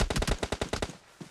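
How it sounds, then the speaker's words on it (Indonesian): Rapid automatic gunfire in a PUBG Mobile tournament match, about nine sharp shots in a quick burst, close and loud, then a brief pause and one more faint shot. "Tembakan ke arah CNR."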